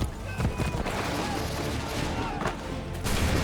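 Musket gunfire crackles in the Assassin's Creed 3 video game, a dense volley of overlapping shots and booms amid shouting voices in a chaotic battle scene.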